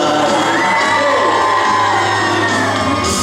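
A concert audience at a theater in Tainan screams and cheers in a loud, dense, continuous roar of shouts and whoops that stays at full level throughout.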